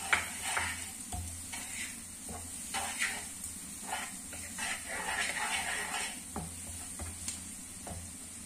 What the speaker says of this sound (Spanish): Y le damos unas cuantas de vuelta.